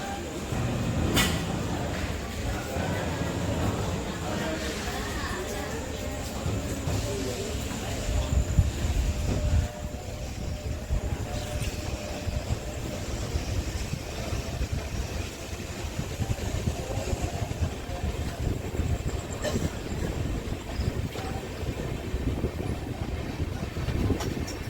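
The Seshadri Express sits at platform 1 of Srikalahasti station, its engine giving a steady low idling rumble with station noise, while people talk close by throughout.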